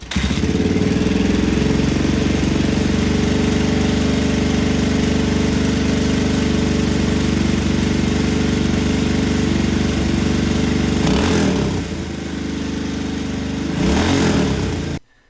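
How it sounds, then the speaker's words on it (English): A 1983 Honda XR500 single-cylinder dirt bike engine idling after restoration, a loud, steady thumping idle close to the microphone that dips briefly near the end before cutting off. "after a quick idle adjustment, we have this nice sounding thumper who smokes more than your friends hooked on vapes"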